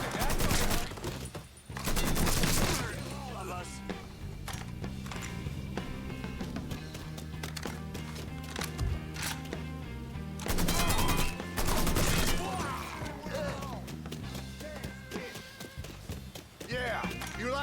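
Gunfire in the video game Mafia III comes as dense bursts of rapid shots around two seconds and again near eleven seconds, with scattered single shots and impacts in between, under a constant game soundtrack and talk.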